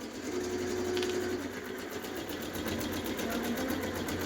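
A sewing machine runs steadily while stitching a blouse in a tailoring workshop in the evening, its fast, even needle rattle continuous and close throughout, with no talking.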